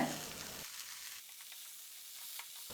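Cabbage and sweet corn sizzle as they are stirred together in a hot frying pan, a steady broadband hiss that drops quieter after the first half second, with faint scraping touches and no voices.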